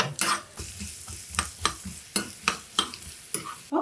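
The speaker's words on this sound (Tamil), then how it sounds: "தேங்காய் வந்து நல்லா நெய்யில் வரப்பட்டுருச்சு" Grated coconut frying in ghee for kolukattai, stirred with a spoon: a soft sizzle under a regular series of close, crisp scrapes and clacks against the pan, about a dozen in under four seconds, with no voices.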